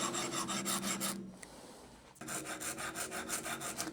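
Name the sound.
medium file rasping a guitar nut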